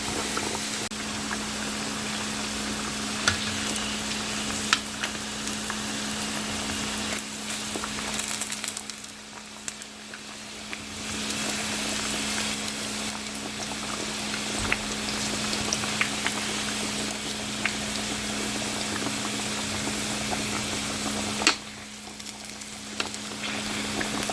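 Steady, loud sizzling of pork frying in oil in a wok, with crackling pops throughout and brief dips where the frying quiets down.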